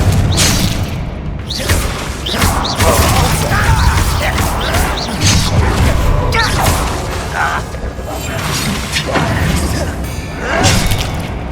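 Spell blasts in Hogwarts Legacy: a dense run of booming impacts, shattering crashes and magical whooshes layered with game music, loud and continuous, with a voice shouting incantations over the combat.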